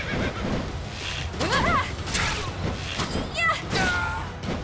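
A Cavalier's horse in Fire Emblem Three Houses (Black Eagles route) neighs several times in rising, wavering whinnies amid battle hits and hooves, while a person talks over the action.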